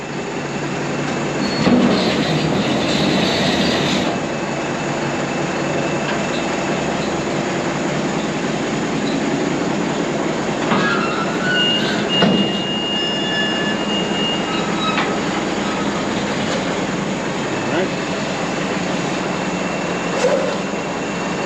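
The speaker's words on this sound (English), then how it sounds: "this is without your baler running, opening it up" John Deere 385 round baler opening up with the PTO off, a steady mechanical hum with scraping and faint squeals and clicks throughout, close and continuous.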